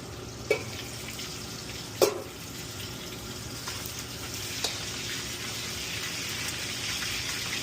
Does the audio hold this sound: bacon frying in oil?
yes